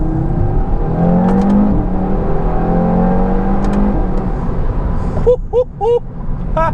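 A 2018 Audi RS3 with a tuned 400-plus horsepower five-cylinder engine pulling hard, its loud droning tone rising steadily in pitch, then breaking into short stepped bursts near the end.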